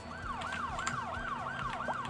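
Several ambulance sirens in a city builder game wail together in a rising and falling cycle, repeating about every third of a second over a steady traffic hum, close and clear with no talk.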